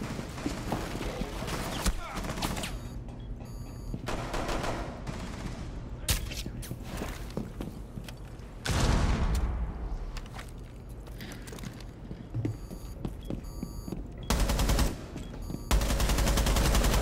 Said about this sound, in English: I can hear my gunfire